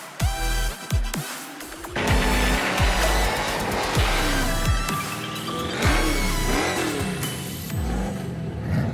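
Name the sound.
1970 Plymouth Cuda big block engine revving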